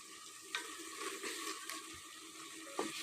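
A soft, steady sizzle of garlic ginger paste cooking in a pan with liver, with a few light clinks and stirring sounds, quiet and close.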